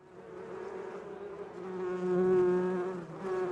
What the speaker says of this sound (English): There's some bees flying around and getting nectar from flowers.